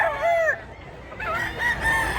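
A young rooster, a stag under a year old, crows clearly and close by, two drawn-out calls separated by a short pause, with little else around.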